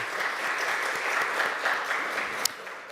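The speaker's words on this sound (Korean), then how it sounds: "우리 한번 지금까지 이렇게 수고해 주신 모든 분들을 위해서 큰 박수로 감사와 또 기쁨을 표현하겠습니다" A church congregation at a Christmas Eve service breaks into sustained applause, an even wash of many hands clapping with one sharp clap standing out.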